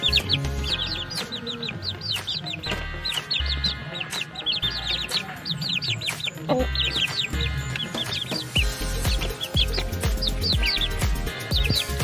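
Native chickens about six weeks old clucking and peeping continuously at close range, many overlapping short calls with bursts of chirps over low background thumps.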